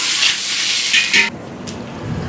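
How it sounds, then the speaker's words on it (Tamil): Onion, curry leaves, cumin and dried red chillies sautéing in a pan, a loud close hiss of frying that drops to a quieter sizzle partway through, with no talk. "வெங்காயம், கருவேப்பிலை, செத்தல் மிளகாய். இதெல்லாம் நல்லா வதங்கட்டும்."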